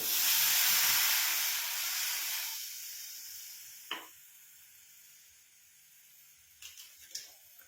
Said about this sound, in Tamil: இந்த தண்ணி வந்து கொஞ்சம் நல்லா கொதிக்கட்டும்